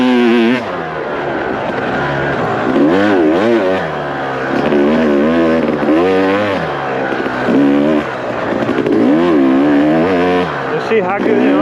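A KTM motorcycle rides on sand, its engine note rising and falling in repeated close revs as the bike slides and accelerates, with a voice talking over it.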